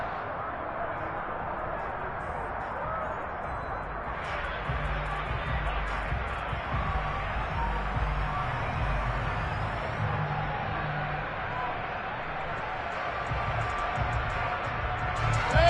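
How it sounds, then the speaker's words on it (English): A football stadium crowd roars and cheers ahead of a big third down, a broad sustained wash of voices swelling slightly midway, with a commentator talking over it. "The crowd getting into it as we come up on a big 3rd down"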